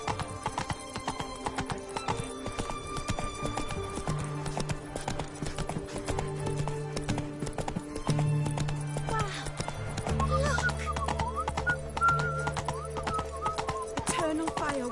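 The horse Roach from The Witcher 3 gallops in a steady drumming rhythm of hoofbeats, joined by a whinny and game music, with spoken voices over the top.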